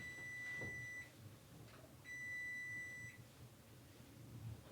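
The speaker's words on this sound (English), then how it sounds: "You hear that beeping?" Two sustained electronic beeps from a kitchen appliance, each about a second long, separated by a pause, over low background rumble.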